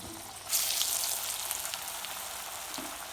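Tapioca and carrot vada frying in hot oil, a steady close sizzle that swells after a moment into a dense bubbling crackle and stays even throughout.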